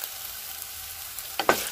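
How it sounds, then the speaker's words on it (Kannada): Peeled potatoes frying in plenty of oil for an aloo palak dish, a quiet steady sizzle ending in two quick, louder scrapes of a spatula stirring them, close up. "ಆ ಥರ ಆಗೋ ತನಕ ಹುರ್ಕೋತಾ ಇದ್ದೀನಿ"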